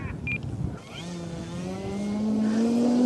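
A Hangar 9 20cc Brave RC airplane's gas engine opening up for a no-flap takeoff, its buzzing drone rising steadily in pitch and loudness as the plane accelerates, with no talk over it.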